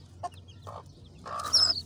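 A hen clucks in short, soft bursts close by, followed by a louder, higher squawk.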